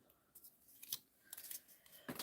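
Scissors cut paper at a craft table: a few soft, crisp snips and rustles spaced irregularly, close and quiet, with no talking.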